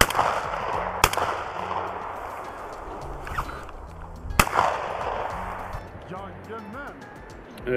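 Shotgun shots while hunting black grouse on an open bog: two sharp, loud blasts several seconds apart, each ringing briefly, over a steady wind-like background with a few faint bird calls toward the end.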